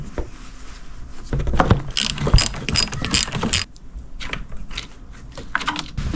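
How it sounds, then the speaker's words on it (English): Ratchet with a 10mm socket loosening the negative battery terminal on a 2008-2018 Toyota Corolla, a run of quick close clicking and mechanical rattling that swells and fades over several seconds. "for this you need the 10mm and the socket set"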